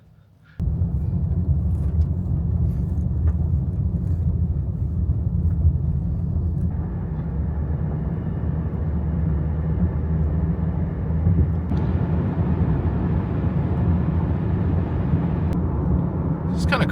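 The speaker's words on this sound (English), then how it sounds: "So we're gonna hop in the car" A car drives along a road at night on the way to downtown Fargo, North Dakota, with a steady, loud low rumble of engine and tire noise from inside the cabin that continues throughout.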